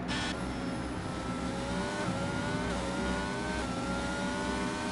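Race car engine screaming through a flying qualifying lap, high revs rising and dropping with quick gear changes, steady and fairly close throughout.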